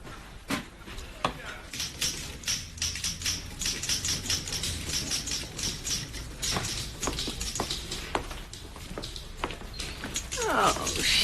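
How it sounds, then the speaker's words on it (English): A typewriter clacks away with a rapid, uneven run of sharp key strikes, close and fairly loud, over a low room hum. "I've been typing up some of the work that Nora left unfinished on Naked Love."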